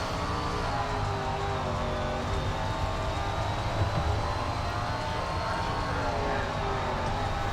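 Super late model race car engine in SRX on the Slinger track, a constant droning roar with a strong low hum and steady harmonics, held at an even level for the whole stretch without letting up.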